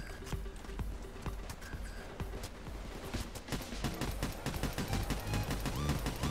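Gunfire in the video game Payday 2 comes as a dense, nearly unbroken stream of rapid shots, steady and loud for the whole stretch, over a constant low background rumble.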